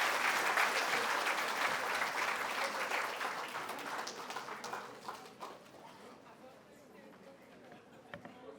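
Parents and audience clap at a school annual day prize-giving, a dense crowd applause starting loud and gradually thinning out over several seconds, with a voice talking over it.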